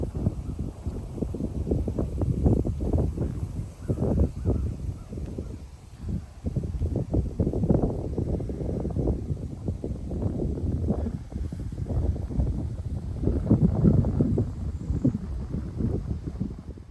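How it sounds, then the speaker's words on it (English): Gusty wind sweeps through tall prairie grasses such as big and little bluestem and Indian grass in an autumn garden, rising and falling in rough, rushing waves that buffet the microphone. "it's windy out"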